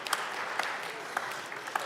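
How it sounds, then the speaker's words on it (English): Steady applause rises in a Colorado House legislative chamber as members welcome visiting neighbors from House District 42, a continuous patter of many hands with a few sharper claps poking through. "So everybody, please give an applause to my friends and neighbors from HD 42."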